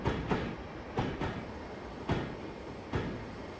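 A train in Train Simulator 2017 on the Portsmouth Direct Line rolls steadily past with a low rumble and a rhythmic clickety-clack of wheels, the clanks coming at regular, evenly spaced intervals.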